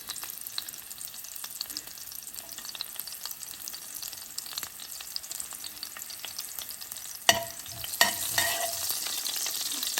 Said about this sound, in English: Okay, our oil looks like it's ready. So I'm gonna add the ajwain and the green chili peppers